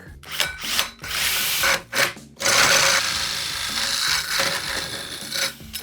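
A Panasonic cordless drill driver bores into wood, a loud continuous grinding whir with brief pauses and restarts, the bit rubbing and scraping through the workpiece alone without talk.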